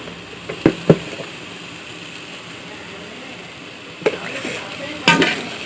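Cabbage being sautéd in a pan for a Tamil-style cabbage kootu, with low steady sizzling broken by a few sharp utensil clinks and stirring scrapes against the pan near the start and again toward the end.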